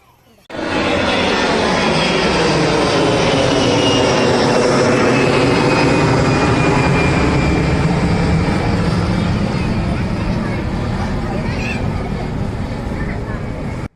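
A fixed-wing airplane at Karipur airport in Kondotty roars loudly and steadily for over thirteen seconds, a broad, sustained engine rumble with a slowly shifting whine after a brief quiet start.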